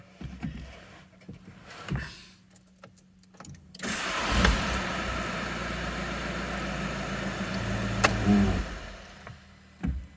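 A 2016 Volkswagen Caddy diesel with an EDC17C64 engine unit is started: faint clicks and cabin noises at first, then the starter cranks and the engine catches, settling into a steady idle with a brief revving bump near the end.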